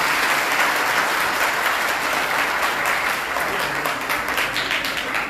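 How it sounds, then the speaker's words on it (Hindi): An audience at a community foundation gathering in Maharashtra breaks into sustained applause, a steady wash of many hands clapping for several seconds at an even, fairly loud level, with no speech on top. "तो तालियां बजाइए"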